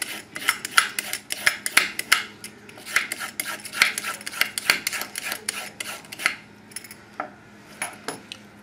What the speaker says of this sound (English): if you use the potato peeler, it's a good way to do the carrot